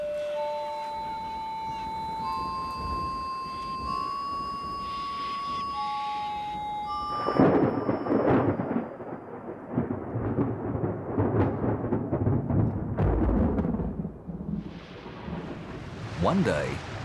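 A thunderstorm with rain breaks a long desert drought. Thin, high whistling tones come first, then a heavy rush of rain and rumbling thunder swells up and holds, loud and close.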